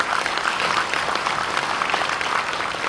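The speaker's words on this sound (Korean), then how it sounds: "우리 여기 부사장님 계신데 우리 박수 한번 해드릴까요?" Audience applause for a vice president at a resort venue with a high-tech digital screen, a steady mass of clapping hands filling the room without a break.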